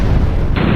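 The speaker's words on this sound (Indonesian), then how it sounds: "mengakibatkan terjadinya ledakan dahsyat hingga menghanguskan seluruh tempat tersebut" A huge movie-scene explosion tears through an amusement park, a loud, sustained low boom rumbling continuously with no let-up across the short span.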